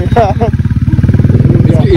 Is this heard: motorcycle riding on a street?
yes